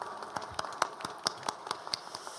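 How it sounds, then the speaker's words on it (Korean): A congregation at a Sunday evening church service gives a round of applause, faint irregular hand claps spread loosely across the room rather than a full roar. "우리 큰 박수 하나님께 영광을 드립니다"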